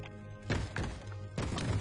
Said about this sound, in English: Zombies will only bang on doors for so long.